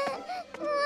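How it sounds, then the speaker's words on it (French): A cartoon baby's crying, a close, wavering high-pitched wail with sobbing catches, carries on without pause over a brief span. "Ne pleure plus, mon bébé"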